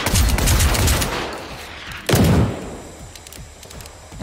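Gunfire in the video game Generation Zero: a dense burst of rapid shots, then a single loud blast around the midpoint followed by scattered fainter shots and echoing thuds.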